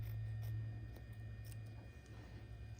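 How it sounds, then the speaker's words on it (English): Scissors snip through embroidery applique fabric in a few quiet, close cuts over a steady low hum. "Like I said, I love these scissors."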